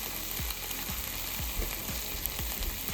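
Sliced ham for eggs Benedict fries in a pan with a steady, close sizzle and crackle, joined by occasional low knocks and soft stirring movements.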